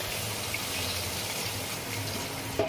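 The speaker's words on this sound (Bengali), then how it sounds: "আমার গ্রেভিটা হয়ে গেছে, এরপরে আমি একটু জল অ্যাড করব।" Water pours steadily into a pan of curry gravy for soybean kofta curry, a close, continuous gushing splash that ends with a brief clatter.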